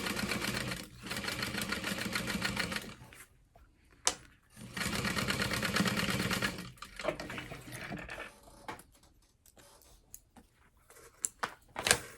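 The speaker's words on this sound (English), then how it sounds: "I'm again back stitching to help reinforce the wallet flap" A sewing machine runs in steady bursts while stitching around the outside edge of a small clutch wallet flap and backstitching to reinforce it. Three sustained runs are separated by short pauses, with quieter stop-start stitching and handling noises toward the end.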